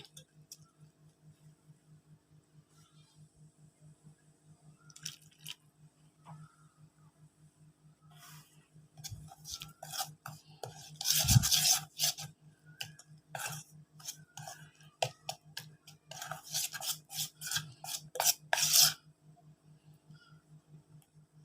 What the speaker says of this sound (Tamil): கொஞ்சம் கொஞ்சமாக மிக்ஸ் பண்ணிக்கலாம் பால் ஊற்றி.